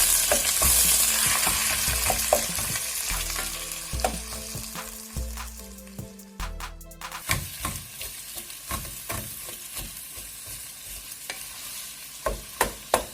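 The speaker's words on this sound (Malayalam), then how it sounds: "നന്നായിട്ട് വഴറ്റുക" Sliced onions sautéing in a pan for mutton liver fry, a steady close sizzle broken by clattering stirs and spatula scrapes against the metal, the sizzle settling lower as sharp stirring knocks continue.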